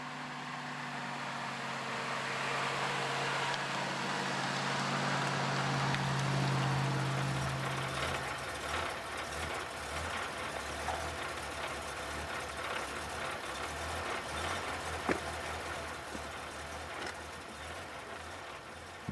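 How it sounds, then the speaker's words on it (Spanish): A car pulls up and stops, its engine swelling as it nears, then settling into a low, steady idle that rumbles on at moderate distance. "apareció un coche que paró allí"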